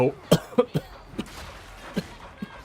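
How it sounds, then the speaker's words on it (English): A string of small, dry post-COVID coughs and throat noises, several quick bursts spaced irregularly over a few seconds, close and moderately loud. "My post-COVID cough."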